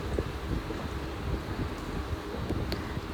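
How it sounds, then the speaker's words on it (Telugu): A gusty whirlwind blowing hard outdoors with continuous loud rushing and buffeting against the microphone, with no talking. "అలాగే సుడిగాలి వస్తుంది."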